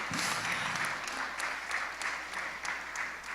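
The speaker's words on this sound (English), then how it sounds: "Clap for all the ladies who make our world so beautiful." An audience applauding the ladies at a gathering, dense, continuous clapping from many hands close by, with faint talk underneath.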